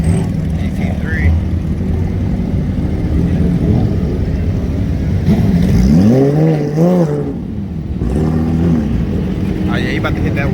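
A GT3 sports car at a busy car meet revs and accelerates, its engine note sweeping up and down in pitch near the middle of the clip over steady crowd chatter and background traffic.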